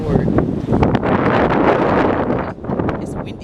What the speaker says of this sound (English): It's windy. Let me wait till the wind stops.